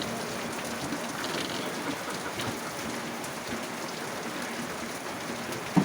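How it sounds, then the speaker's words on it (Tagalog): A sudden heavy rain downpour in strong wind makes a dense, steady roar of rain hitting surfaces, loud and unbroken throughout, with a single sharp knock near the end. "Biglang buhos yung ulan."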